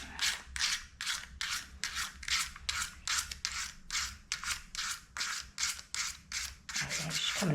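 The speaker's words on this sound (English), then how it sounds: "See if we've got a bit more emery cloth on this." Emery cloth rubbed briskly over the windings of a McCulloch lawn mower motor, a steady run of about fifteen close, even rasping strokes, loud and alone with no talk.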